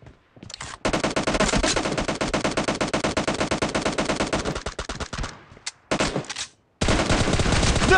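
Sustained automatic gunfire in a PUBG team deathmatch arena fight, with loud, close, rapid rhythmic bursts that run almost continuously, briefly pause, and resume at full intensity.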